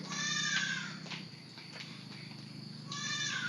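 A grazing cow in rural Assam calls out twice, with a drawn-out moo at the start and another at the end, separated by a quieter stretch of outdoor background.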